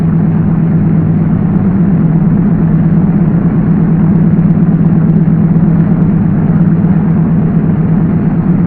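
Douglas DC-3 piston engines running up at a steady 1,500 RPM, a loud, continuous low droning hum that holds evenly throughout with no voices.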